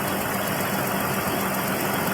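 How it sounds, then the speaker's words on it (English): A Ford Ranger or Explorer engine idles steadily close by, a continuous rumble with a faint, regular exhaust tick running through it. "Seems to be running pretty good now. I hear a slight exhaust tick."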